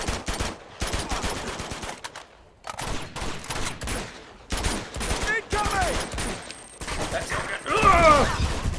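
Rapid bursts of automatic gunfire in Uncharted 2 come in dense volleys with short gaps, close and loud, with shouted voices and whizzing ricochets mixed in.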